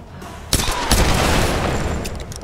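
A normal pistol fires in Tomb Raider (2013), one sharp shot followed by another, loud and close, over dense ongoing game noise.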